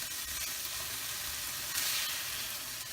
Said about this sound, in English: Now we have our peppers and onions sauteing.